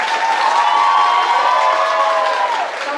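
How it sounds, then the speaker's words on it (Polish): Audience applause at a school prom, a dense burst of clapping from a crowd with a shout rising over it, loud and continuous before tapering slightly. "I teraz brawa od Was dla niej za to,"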